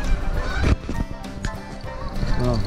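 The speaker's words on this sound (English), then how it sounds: "you hear the geese?" Geese honk in bursts amid outdoor noise, fairly loud, with scattered calls over a rumbling background.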